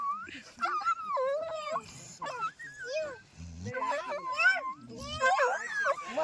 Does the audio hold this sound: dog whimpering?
yes